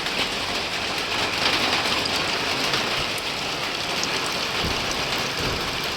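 Rain pours steadily during a rice harvest, a dense, close, even hiss of drops on surfaces that continues unbroken throughout.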